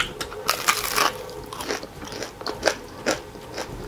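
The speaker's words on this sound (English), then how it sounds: "You guys heard that crunch on that kachorie?" Crisp bites into a crunchy fried Trini kachorie, a vegan split-pea fritter, give a series of sharp close crackles and crunchy chews in quick irregular bursts, with no talking.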